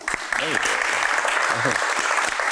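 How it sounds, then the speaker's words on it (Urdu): Studio audience applause on a Pakistani TV talk show, dense steady clapping throughout with brief voice-like tones surfacing within it. "اس پہ تالی نہ بجائیں"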